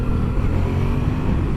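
A 2016 Yamaha FZ-07 (MT-07) motorcycle is ridden, its engine a steady close rumbling drone mixed with rushing wind noise.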